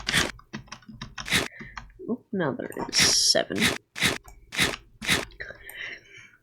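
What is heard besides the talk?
fire ants munching food in the video game AntKeeping Simulator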